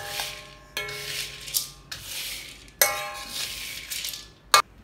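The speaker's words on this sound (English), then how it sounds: "first toast your almond until it's golden brown, and then keep stirring so it doesn't burn" A spoon stirs almonds being toasted in a pan, giving repeated close scraping, rubbing strokes in uneven bursts, with one sharp metallic clink near the end.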